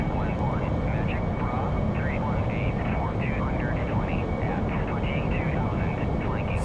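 A Harrier AV-8B jet engine in the DCS flight simulator gives a steady, loud turbine roar and whine throughout, with someone talking over it.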